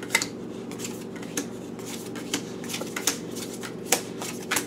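Tarot cards being shuffled by hand during a reading: a steady papery riffle with sharp, close snaps of cards scattered across a low constant hum.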